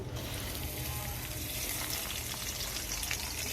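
Chopped onion and black cumin seeds frying in oil, a quiet, steady broadband sizzle that holds evenly throughout without talk.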